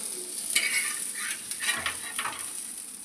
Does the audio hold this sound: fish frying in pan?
yes